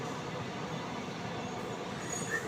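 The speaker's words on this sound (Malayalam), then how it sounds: "കാസർഗോഡ് സ്റ്റേഷനിലോട്ട് ആ ട്രെയിൻ എത്തുകയാണ്." A faint, distant train rolls in steadily toward Kasaragod station, heard from a nearby riverbank as a low continuous rumble with a slight squeal near the end.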